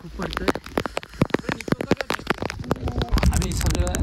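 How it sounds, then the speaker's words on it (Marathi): Heavy rain pours at a hill fort in fog and cold, a dense spattering of drops close to the microphone that grows into a steady roar near the end. "थंडी, धुकं आणि पाऊस खूप जोरात आहे"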